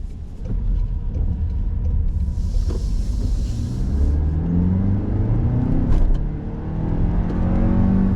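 A Toyota Crown 2.4 Dual Boost Hybrid driven in sport mode gives a steady, deep engine and road rumble from inside the cabin, with the tone rising and falling as it accelerates.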